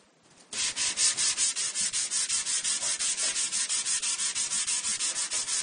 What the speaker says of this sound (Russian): Теперь на вот этой наждачке, так аккуратненько, теперь с ножами.